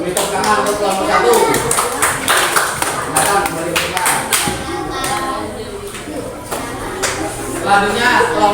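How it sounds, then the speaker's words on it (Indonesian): Applause and clapping from a classroom audience of teachers and students cheering group one after a presentation, a busy burst of hand claps lasting several seconds with children's voices mixed in. "Beri tepuk tangan untuk kelompok satu."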